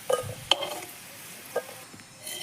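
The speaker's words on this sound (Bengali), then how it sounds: "লবণ হলুদ দিয়ে ভেজে নেওয়া লাল লাল করে আলুগুলো তুলে নিচ্ছি" Potatoes coated in salt and turmeric fry in hot oil in a kadai over a clay wood-fired stove. A utensil gives a few light clinks and stirring scrapes over a soft, steady background sizzle.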